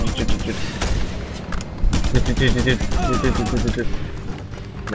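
A two-handed gun fires in the video game Just Cause 2 in loud, rapid bursts with continuous rattling shots and heavy booms. Someone talks excitedly over the gunfire.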